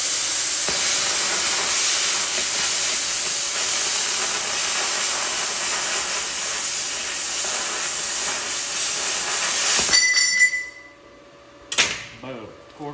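An oxy-fuel torch nozzle cuts through quarter-inch steel on a 1965 GMC, giving a loud, steady roaring hiss for about ten seconds before it cuts off abruptly, followed by a few short bursts.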